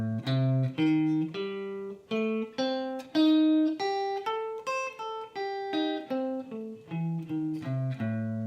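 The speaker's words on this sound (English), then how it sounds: "If I just play some of the scale notes, but I play that flat 5, listen how bad it sounds." Single melodic notes of a blues scale including the flat five, played one after another with clear harmonic tones, each note plucked and sustained briefly in a steady walking rhythm, close and alone.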